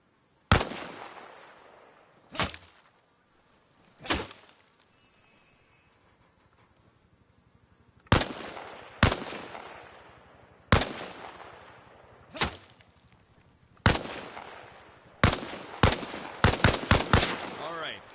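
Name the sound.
gunfire while leaning out from a wall in Arma video game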